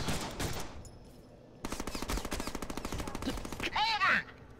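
Assault rifle fire from the Deadpool video game crackles in dense rapid bursts through the middle of the clip, following an earlier short burst, with a brief rising synthetic swoop near the end.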